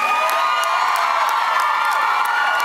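A theater concert audience cheering loudly at the Tower Theater in Upper Darby, a dense sustained roar of whoops and shouts with scattered claps throughout.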